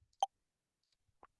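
A short, snappy low-mid electronic text-scroll blip from a video game, followed a second later by a softer second blip, all in near silence.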